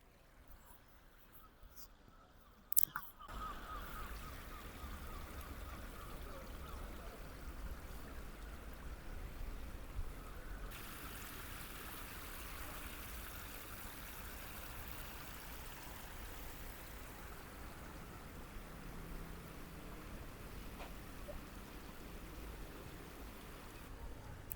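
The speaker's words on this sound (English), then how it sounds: "The sound of water is quite nice." Water flows steadily along the Armada Way rill, a new reed-filtered water feature in Plymouth, UK, giving a continuous outdoor trickle and wash after a brief bump near the start, with faint traffic-like hum beneath.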